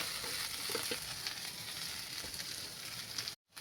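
A samosa filling of potato and peas sautés in a pan with a continuous close sizzle and soft stirring crackle, cutting out briefly just before the end.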